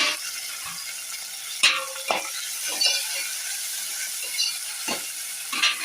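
Onion, garlic and tomato sauté in a hot pan for a spicy bean kulambu, a steady close sizzle broken by a few scraping stirs and light clinks of a spoon against the pan.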